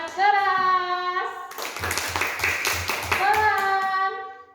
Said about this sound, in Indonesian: Tepuk tangan keras.